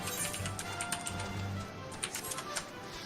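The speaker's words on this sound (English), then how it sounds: "Fucking mechanical keyboards." Rapid clicking keystrokes on a mechanical computer keyboard, a steady patter of small ticks at moderate distance, fairly quiet with no talk over it.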